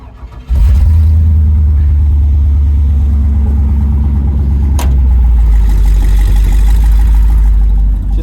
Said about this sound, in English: Just got some old turbo mufflers on it. It actually sounds pretty good.